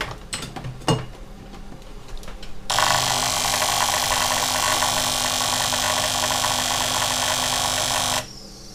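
After a few faint clicks, a Karcher SC4 steam cleaner under repair for putting out too much steam starts up into a loud, steady mechanical hum and hiss that holds for about five seconds, then cuts off abruptly.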